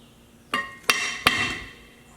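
Three loud metallic hammer strikes ring out in quick succession on a brake drum of a Chevy rear end, each clang leaving a bright ringing tail.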